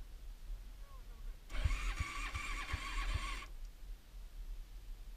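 A motorcycle's starter motor grinds for about two seconds with several rhythmic cranking pulses, faint and somewhat distant, but the weak engine doesn't catch.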